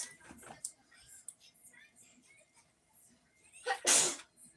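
Soft, faint murmuring gives way to one loud, close sneeze near the end, a quick intake then a hissing burst.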